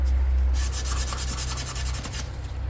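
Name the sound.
sanding a rosewood guitar body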